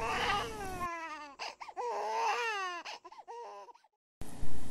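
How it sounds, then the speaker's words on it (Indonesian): An infant cries alone in wailing, rising-and-falling bursts with short gasping breaks, loud and close, cutting off abruptly before a final burst of noise. "diikuti suara tangisan bayi."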